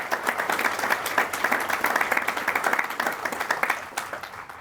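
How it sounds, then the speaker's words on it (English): An outdoor Memorial Day crowd at Fort Custer applauding the American Legion Women's Auxiliary, a steady patter of many hands clapping at moderate distance for several seconds. "Let's give them a big warm applause over there."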